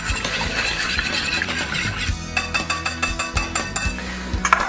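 Eggs being whisked in a bowl for a pork chop breading station: a rapid run of clinking strokes against the bowl's side, close and steady, after an opening stretch of clattery kitchen noise.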